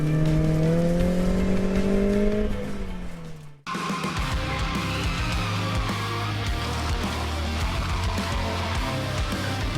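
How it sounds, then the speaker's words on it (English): A car running on worn, cold tires revs hard as the throttle comes on early at an autocross event on a chilly October day, the engine loud and strained, with some tire squeal, continuously for about ten seconds. "So this is what happens when your tires are dead, it's cold outside, and you get on throttle a little bit early."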